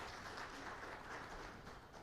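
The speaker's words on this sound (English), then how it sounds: "Round of applause for Lito." Audience applause at a national climate workshop in Uganda, a dense, even wash of clapping from a crowd, quiet and somewhat distant, with no voices over it.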